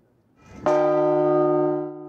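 A single large cathedral bell of Notre-Dame strikes once and rings out, its deep, rich tone sustaining and slowly fading.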